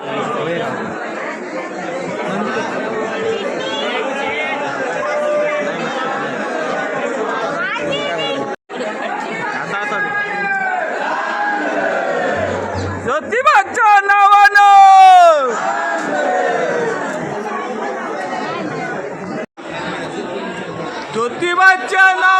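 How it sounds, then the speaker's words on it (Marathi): Dense crowd chatter inside Jyotiba temple near Kolhapur, a constant babble of many voices with occasional louder calls and one voice rising clearly above the hubbub midway. "आतमध्ये गर्दी बघा किती आहे"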